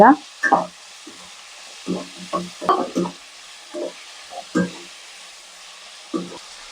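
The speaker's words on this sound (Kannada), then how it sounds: "ಇದಕ್ಕೆ ಕಟ್ ಮಾಡಿರೋ ಟೊಮೆಟೊ ಹಾಕ್ತಾ ಇದ್ದೀನಿ. ಮಿಕ್ಸ್ ಮಾಡ್ಕೊಳ್ಳಿ." Chopped tomatoes stirred into onions frying in a pan for egg biryani: a series of close, distinct scraping strokes of a spatula, each a short rustling burst, over a quiet background with no talking.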